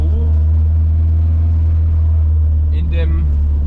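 Simca Rallye 2 rally car engine droning steadily from inside the cabin while driving, a loud low rumble with strong harmonics, and a brief higher whine near the end.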